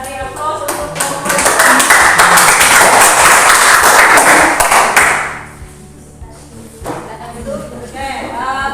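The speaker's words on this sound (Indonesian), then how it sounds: "Kita beri aplaus untuk kelompok." Applause for a group in a classroom discussion session: several seconds of dense, loud clapping from many people that fades out, followed by a teacher's voice speaking.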